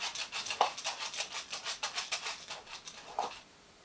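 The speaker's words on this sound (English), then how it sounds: "What I do like to do is to brush it through very gently" Hairbrush drawn gently through slightly tangled, curly hair, giving a series of soft, rhythmic bristly swishes, close and quiet, with a couple of faint clicks.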